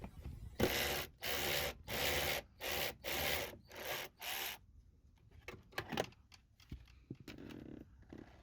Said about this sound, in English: I'm using a 10mm socket to remove this nut.